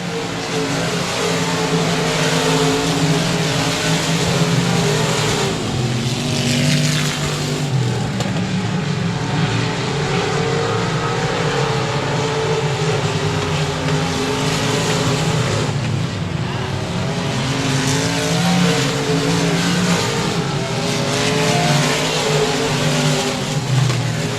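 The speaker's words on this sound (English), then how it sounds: "It'll be a pair of express race cars that run 1 and 2 right now to the line." Stock cars race at 67 Speedway of Texarkana, with a continuous loud engine roar and revving as the cars pass close by, with no talk over it.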